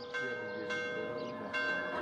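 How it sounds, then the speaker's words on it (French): Cathedral church bells ring on a Sunday in Kormakiti, Cyprus, with several resonant strikes sounding at a moderate distance and long ringing decays overlapping. "les cloches de la cathédrale n'ont jamais cessé de sonner le dimanche"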